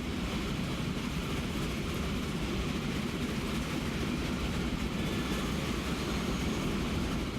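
A train pulls into a depot in the railway management game Transport Fever, heard as a steady, dense rumble of rolling wagons and engine noise that holds evenly for the whole stretch, with no talking.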